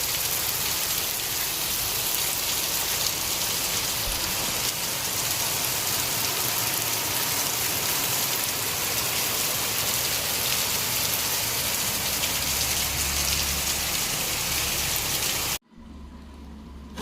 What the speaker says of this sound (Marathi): जोरदार पाऊस इलो.